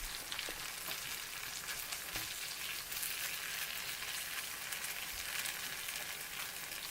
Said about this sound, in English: Getting a good little stir fry going here in about a minute.